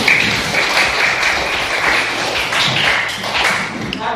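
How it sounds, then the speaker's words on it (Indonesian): A classroom full of students claps together in a dense, continuous burst of applause that stays loud and close for several seconds. "Tepuk tangan."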